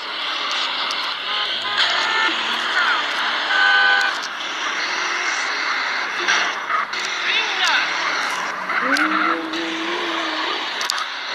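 A car in the Android version of GTA San Andreas drives and skids, with engine noise running throughout and a squeal of tires near the end, while someone talks over the gameplay.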